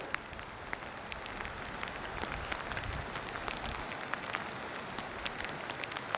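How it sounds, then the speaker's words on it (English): Light rain falling in the Gila Wilderness of New Mexico, a steady soft patter of drops with scattered sharper taps, faint and continuous with no voices. "It's raining."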